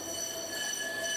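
Steady high-pitched wheel squeal from a Wirye Line tram taking a curve during test running, a continuous metallic whine with layered tones lasting the whole brief moment, no talk.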